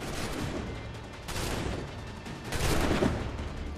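Gunshots in Assassin's Creed 3, heard as a dense, muffled rumble of overlapping firing and booms with swelling loudness, no clear separate reports and no speech.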